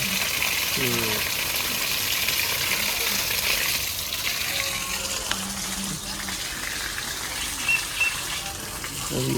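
Water gushes steadily onto a garden bed of leafy vegetables and flower plants, a continuous broad spray lasting throughout, fairly loud and close, with faint background sounds underneath.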